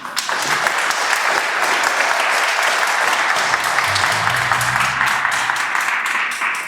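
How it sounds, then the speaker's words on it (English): A crowd at a Martin Luther King presentation held by the Wilkes-Barre NAACP gives musical performers a loud, steady round of applause, with a faint low hum underneath near the end. "let's give them one more round of applause."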